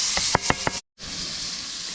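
Onion dropped into a very hot pan while truck camping on a chilly, rainy evening gives a few sharp knocks, then a brief hush before a steady loud sizzle and hiss takes over.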